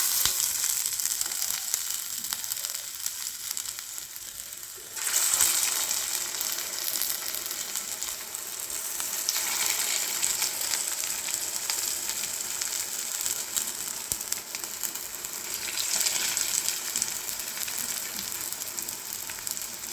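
Sweet corn tikkis shallow frying in a little hot oil over a low flame give a steady, dense sizzle that swells when another piece goes in, continuing unbroken and close with no voices.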